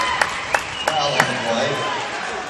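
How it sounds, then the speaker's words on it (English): A noisy basketball tournament crowd fills a gym with a steady murmur punctuated by sharp claps or bangs in quick succession, while a voice talks over the din. "the crowd offers just a cacophony of sounds here"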